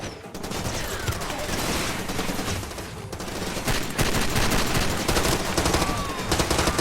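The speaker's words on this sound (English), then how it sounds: "I have no idea who's shooting at me" Sustained bursts of automatic gunfire from a firefight in the video game Far Cry 2, dense overlapping shots and volleys rattling continuously for several seconds with no talk over them.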